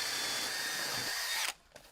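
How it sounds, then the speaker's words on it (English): A power drill bores a hole through a steel plate for a tree repair, a loud high-pitched whine held for about a second and a half before stopping abruptly, then a faint brief clunk. "They mark it with a pencil and then take the steel off and drill through it."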